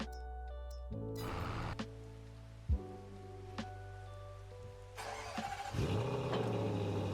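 A vehicle engine cranks and starts in Farming Simulator 22, a thump followed by a steady idling rumble that rises as revs pick up, close and clear over light rain-like background noise.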